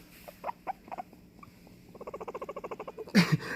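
A guinea pig named Mike cries with a few sparse high squeaks, then a quick run of rhythmic chirps building to a louder squeal at the end, close and alone.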